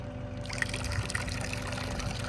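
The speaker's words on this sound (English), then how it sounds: "So since you're depressing that, it's letting all the water out." Water trickling and draining out of a windmill pump through its bottom valve, a small brass valve with a rubber face, as it is held down; a steady close dribble with faint hum underneath.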